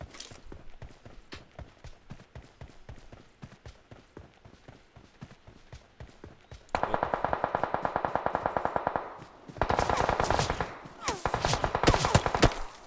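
Gunfire in PUBG Mobile on a new map, rapid bursts of automatic shots cracking loud and close in several volleys, following a long run of steady footsteps.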